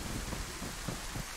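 Steady heavy rain in the video game DayZ forms a continuous broadband hiss with a soft, rumbling patter underneath, with no voices over it.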